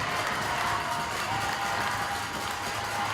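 Crowd noise at a ball hockey gold medal game between Canada and Czechia, a steady wash of cheering and clapping filling the arena without a clear break.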